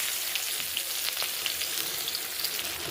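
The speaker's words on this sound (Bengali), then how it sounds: "কড়াইতে পেঁয়াজ দিয়েছি," Onions with whole cumin sizzle in hot oil in a wok, a dense continuous hiss with scattered small pops, close and steady, no voices.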